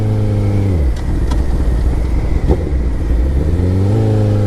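A motorcycle engine revs hard and loud at high RPM for a power wheelie, its pitch climbing, dropping, then rising again in a sustained close roar.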